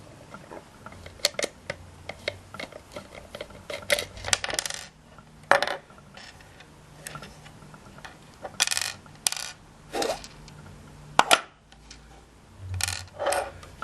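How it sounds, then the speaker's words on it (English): Screws being backed out of the bottom of a coffee and spice grinder during a repair, heard as scattered close clicks and small metallic ticks and scrapes, with brief pauses between handling sounds. "There's 3 screws in the bottom. Take out the screws."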